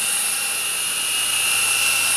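An Alloy Shark S006 toy helicopter whines steadily at close range, with a loud high-pitched motor and rotor buzz holding constant throughout and no speech.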